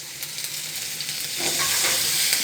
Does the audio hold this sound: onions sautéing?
yes